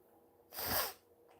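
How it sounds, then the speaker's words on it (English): A single sharp, close sneeze bursts out abruptly after near silence, then quiet returns. "No more sneezing."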